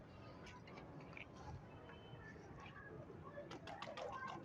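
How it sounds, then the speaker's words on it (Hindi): Pigeons in a fancy-breed loft, star pigeons, softly cooing amid a hum of background noise, faint and intermittent, with occasional wing flutter and a few sharper bird sounds near the end. "नायाब कबूतरों में से एक कबूतर है ये।"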